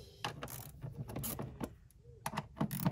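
A hand ratchet with an 8 mm socket works on a cover screw of an ASR unit on a Mercedes 500SL R129, giving bursts of close, crisp clicking in short irregular runs.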